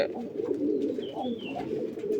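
Domestic pigeons kept for breeding coo without pause, a dense murmur of overlapping low calls, close and steady from start to finish with no talking.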